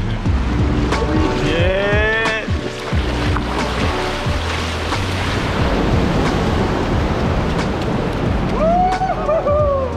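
Ocean waves surge and wash through a sea cave on a rocky coast, a continuous rolling rumble with splashes and wind buffeting, close and loud, while excited voices call out and whoop over the water.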